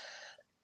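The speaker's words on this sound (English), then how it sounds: "I'm actually feeling the need to clear my throat." A short, close throat clearing, a raspy burst that cuts off, followed by a brief quiet gap and another quick sound.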